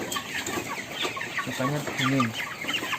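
Several chickens cluck and chatter close by in a coop in a continuous, busy murmur, with occasional louder squawks.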